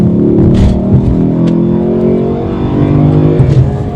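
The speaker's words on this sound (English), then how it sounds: "I will give some acceleration so you guys can hear the beautiful sound of this engine and exhaust" A Lexus LC 500 engine revs up and accelerates, loud and close, its exhaust rising in pitch with a steady roar.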